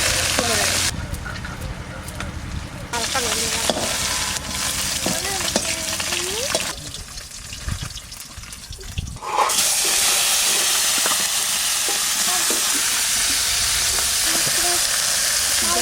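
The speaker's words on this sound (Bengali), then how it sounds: "বেশি কড়া ভাজা করবো না হালকা ভেজে" Fish fry lightly in oil in a pan, a loud, close crackling sizzle that fades and swells as the pan is handled, then settles into a steady hiss with small pops.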